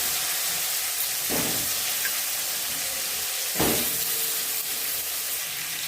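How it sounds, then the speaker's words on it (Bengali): Potatoes are lightly frying in a pan for a vegetarian aloo dum, giving a soft, steady sizzle and hiss with two brief louder bursts of spitting, and no one speaking. "আলুটা আমি হালকা ফ্রাই করে নিয়েছি, যেহেতু সেদ্ধ করার নতুন আলু একটু গন্ধ ছাড়ে, সেই জন্য একটু আলুটা ভেজে নেব।"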